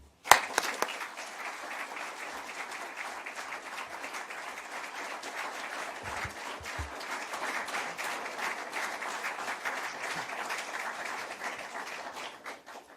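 Sustained audience applause welcoming the Prime Minister at a pre-election speech, a dense, steady wash of many hands clapping that holds for the whole stretch, with a few sharper claps near the start and no talking.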